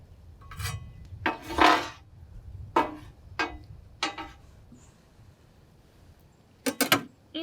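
A metal spatula scrapes and taps across a Blackstone griddle while onions are pushed aside, several short bursts of scraping and clinks separated by quiet gaps, close and moderately loud.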